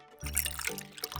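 Milk pours into a bowl of egg and spices in a kitchen, a soft, brief trickle lasting about a second, heard close and quiet.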